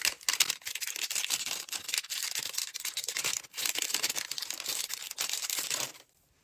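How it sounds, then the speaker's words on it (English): Plastic wrap crinkles, rustles and tears steadily and close by as it is peeled off a new hair growth spray bottle with a rosemary scent, then stops sharply near the end. "Let's take the plastic off it."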